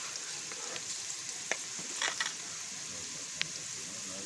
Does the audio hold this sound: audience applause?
no